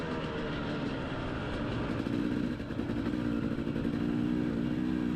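An enduro motorcycle rides steadily across an open track, its engine droning continuously at close range for the whole stretch, with a slight rise in pitch as it works through gears.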